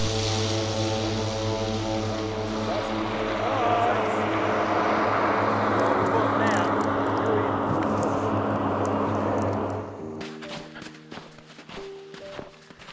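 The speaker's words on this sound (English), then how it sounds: "After watching the ski plane take off, the feeling of the remoteness starts to creep in." Propeller ski plane taking off from a snowfield on the Mt Cook glacier, a loud steady droning roar that swells in the middle and then cuts away after about ten seconds, leaving quiet crunching footsteps and faint movement.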